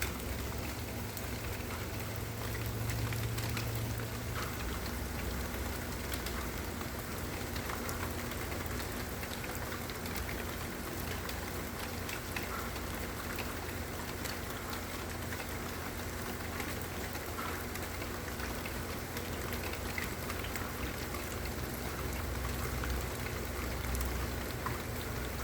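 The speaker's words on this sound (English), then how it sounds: "I like the rain." Steady rain falls continuously across the whole stretch, an even, moderate hiss of drops with a faint low rumble beneath and no voices.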